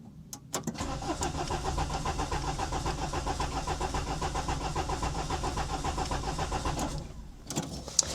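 A Citroën C15 diesel engine cranks briefly, catches and runs with a rough, steady idle for several seconds before cutting off, heard close with no voices.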